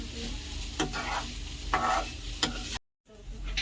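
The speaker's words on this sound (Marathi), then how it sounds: "पाणी सगळे ते भाजून घ्यायचं चांगलं खरपूस वास छान येते" Grated fresh coconut being dry-roasted in a pan for sweet laddoos, stirred with regular scraping strokes over a soft continuous sizzle, with one brief silent break.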